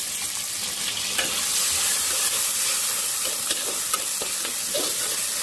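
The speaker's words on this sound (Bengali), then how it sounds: "রসুনটা লাল করে ভাজা হয়ে গেছে, আমি এখন একটু খাসির কলিজা দিয়ে দেবো" Chopped goat liver and garlic browned to red fry in a pan for a steel-cut oats khichuri, giving a steady close sizzle with occasional stirring scrapes and crackles throughout.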